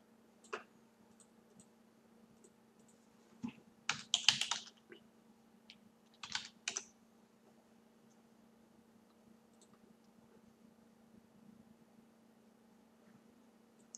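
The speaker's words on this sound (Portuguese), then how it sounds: "Eu vou puxar ela para fora da tela para eu poder digitar minhas credenciais." Someone types login credentials on a computer keyboard in a quiet room: a few isolated key taps, then two short bursts of quick clicking, faint over a low steady hum with long pauses between.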